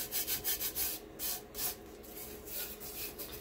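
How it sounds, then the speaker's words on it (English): A painted surface with a second coat is burnished by hand, giving soft rhythmic rubbing strokes close up, steady and fairly quiet, with no talking. "And it is burnishing up beautifully."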